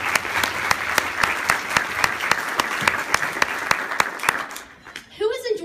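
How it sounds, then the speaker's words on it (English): Audience applause at a charity fashion show event, dense steady clapping with a few sharp individual claps standing out, fading out near the end as a voice begins. "Let's give the Summit Point and staff another round of applause."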